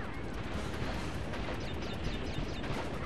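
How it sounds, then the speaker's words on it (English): Dense, continuous rumbling blasts and crackling bursts from Crash Bandicoot: The Wrath of Cortex, loud and unbroken, with faint high-pitched tones chirping over the top. "Just keep doing tiny jumps to avoid the explosions."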